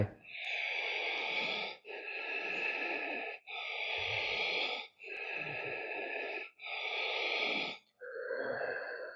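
Ujjayi yogic breathing with an audible throat constriction: five long, evenly paced hissing breaths, close and steady with brief gaps between them, and no speech.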